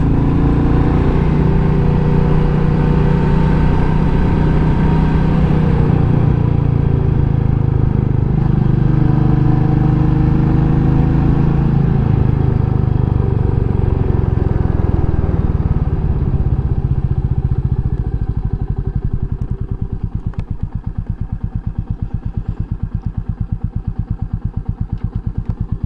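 A Royal Enfield Meteor 350 motorcycle rides over a rough, washboard-like road, its steady engine drone loud and close throughout, with clattering bumps and a rapid juddering rattle growing toward the end.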